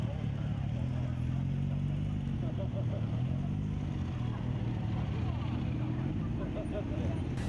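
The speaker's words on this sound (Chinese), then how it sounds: "追梦骑士团车队的重机引擎声吸引了会场所有人的目光" Heavy motorcycles of a charity riders' club carrying elderly passengers to a hotel dinner event in Hualien, their engines a steady low rumble under continuous narration.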